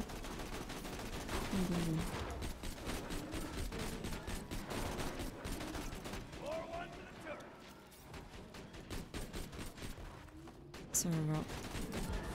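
Video game gunfire in Borderlands 2 rattles in rapid bursts throughout, with short pauses between volleys, while players talk over the shooting.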